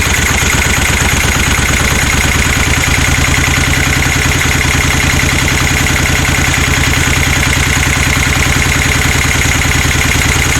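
A motorcycle engine idles steadily with an Amal 930 carburetor being adjusted, its loud, even low-pitched putter running unbroken throughout with a faint mechanical clatter and no voices.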